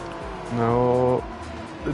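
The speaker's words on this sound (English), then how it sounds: "And now we have the lapping of the GT3s again." GT3 race cars lap in a sim racing endurance event, one engine swelling loudly with a rising harmonic whine as it passes close by for under a second, then fading back under a steady background engine drone.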